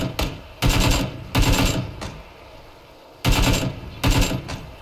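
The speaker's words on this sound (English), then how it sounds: "Taking shots at me." Gunfire in PlayerUnknown's Battlegrounds, four loud bursts of rapid automatic fire separated by short quiet gaps, close and sharp.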